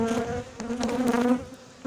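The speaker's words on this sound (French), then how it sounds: "Il y a au moins une 10-20 abeilles qui me tournent autour." Honeybees swarm close around a beekeeper at a hive, giving a dense, continuous buzzing that rises and falls as individual bees fly near and away.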